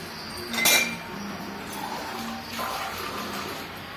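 A deep plate set down on top of a cooking pot, one bright clink of metal near the start followed by a faint rattle, with soft kitchen background and no talk.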